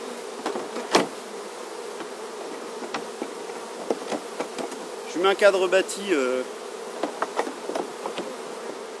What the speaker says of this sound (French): Je vais mettre un cadre avec pas mal d'abeilles